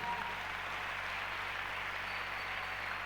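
Church congregation applauding, a dense, steady wash of clapping that holds at an even level throughout without pause.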